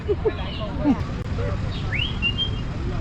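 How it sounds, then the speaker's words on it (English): Small birds chirp and whistle close by while people hand-feed them outdoors, giving short high calls over a constant outdoor hum. "You're feeding the birds."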